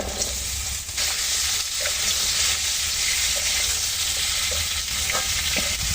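Potatoes and vegetable stems frying in a pan, a steady, close sizzle with occasional clinks and scrapes of stirring throughout, no voices.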